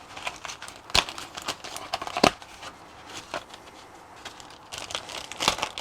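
Plastic crinkles and rustles close by, with several sharper crackling bursts scattered through the handling and no voices.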